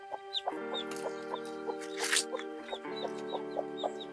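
A hen clucks repeatedly in short, close bursts, with a steady mechanical hum running underneath and a brief rustling flurry midway.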